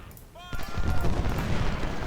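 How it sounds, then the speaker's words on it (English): Artillery opens a bombardment in the Civil War strategy game Ultimate General: Civil War during the Battle of Stones River, a loud rolling rumble of booming cannon fire that swells and continues without a break. "Our artillery is now starting their bombardment"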